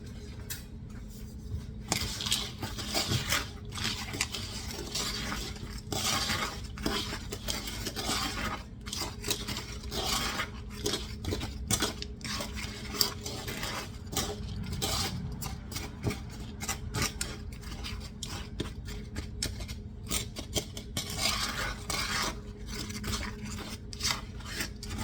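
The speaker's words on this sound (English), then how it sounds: "You are going to stir all these dry ingredients together." Dry muffin ingredients for chocolate-orange muffins, with homemade baking powder, are stirred in a bowl. A spoon rasps and scrapes against the sides in a steady, close scratching that runs alone for the whole stretch.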